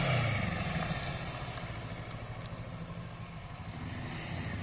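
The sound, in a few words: motorcycle braking while leaning into a turn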